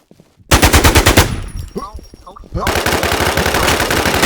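Automatic gunfire from the online shooter Infestation rattles in loud rapid bursts, pauses briefly while a voice speaks, then resumes as sustained fire.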